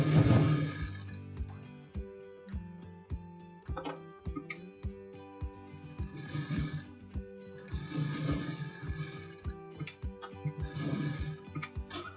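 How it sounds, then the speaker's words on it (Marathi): A sewing machine stitches the side seam of a blouse in rapid, rhythmic ticking bursts that start and stop, close and fairly quiet beneath steady background music. "आता इथे आपण बाजूने शिलाई मारून घेऊ"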